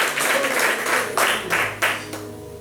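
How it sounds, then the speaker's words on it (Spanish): A church congregation claps and cheers in praise, several swelling bursts of applause rising and falling over a reverberant room with a low musical hum underneath. "Denle un aplauso más fuerte al Señor"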